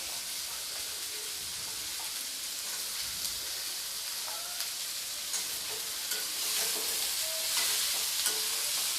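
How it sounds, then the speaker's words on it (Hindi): Pumpkin sizzles and crackles steadily in a hot pan, with scattered scraping clicks from stirring over the continuous hiss. "पहले सब्ज़ी को मैंने लगभग 1 मिनट तक भून लिया है"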